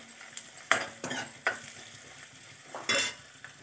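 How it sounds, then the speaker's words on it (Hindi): Garlic paste and ginger paste stirred in hot oil with onions, a steady frying sizzle broken by several sharp scraping strokes of a spoon against the pan. "अब पहले हमने लहसुन का पेस्ट डाला, अब अदरक का, इनको अच्छी तरह मिक्स करेंगे।"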